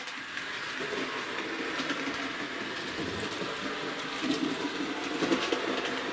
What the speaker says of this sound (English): I don't have any problems with this train at all. Very smooth, it sounds nice.